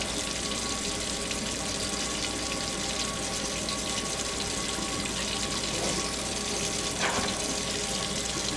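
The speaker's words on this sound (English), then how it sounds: "Probably should have turned this on earlier because it takes a while to get the hot water." Hot water runs steadily from a sink tap, a continuous even rush that fills the whole clip with no talk.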